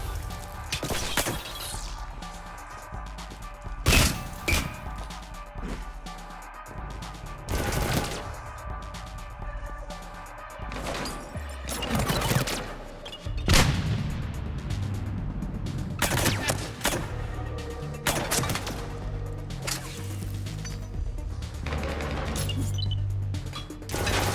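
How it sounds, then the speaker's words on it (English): A Mass Effect 3 firefight: bursts of automatic gunfire and sharp single shots come in irregular volleys, punctuated by heavy blasts including a grenade explosion, loud and close throughout. "Grenade!"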